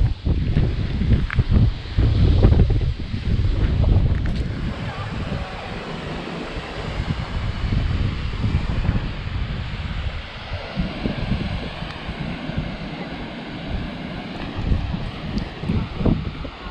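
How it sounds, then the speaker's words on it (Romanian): Strong wind buffets the microphone at an abandoned harbour with boats, a heavy low rumbling roar in gusts, loudest early on and then settling into a steadier blustery buffeting with lighter gusts later. "Ah, ce bate vântul, nu știu cum o să fie sunetul"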